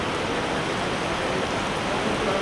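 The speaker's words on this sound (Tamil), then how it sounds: "ரொம்ப அருமையாக மழை பெஞ்சிருக்கு." Steady rain falls in Goa, a dense, even hiss that fills the whole clip without a break, close and constant with no voices.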